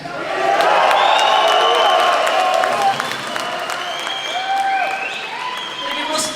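A large crowd at a Mike Tyson interview event in Dublin cheers and applauds loudly and continuously, with whoops and yells rising over dense clapping and fading slightly toward the end.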